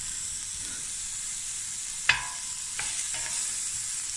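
Onions fry for a chicken curry with a steady, bright sizzle throughout, broken by a few clinks and scrapes of a utensil stirring the pan near the middle.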